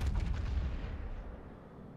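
A heavy naval gun salvo from a warship battle video game, in a World of Warships-style match with the battleship Yamato, booms loudly at the start and then rolls away into a fading rumble.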